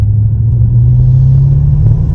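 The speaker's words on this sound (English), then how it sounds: "You can hear the turbo." Steady low engine rumble from inside a moving 2014 Audi RS7, with a faint turbo whine over the drone at part throttle and no talking.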